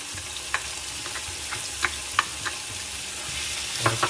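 Ginger garlic paste hits hot oil for a chicken Madras, producing a constant bright sizzle up close, punctuated by a few sharp spoon taps and stirring clicks, with no talking.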